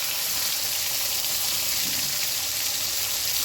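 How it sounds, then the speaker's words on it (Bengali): Bay leaf, dry chilli and cumin tempering frying in hot oil for a snakehead fish curry with chui jhal and taro, a steady close hiss and sizzle with no talk. "তেজপাতা শুকনো লঙ্কা জিরে ফোড়ন দিচ্ছি"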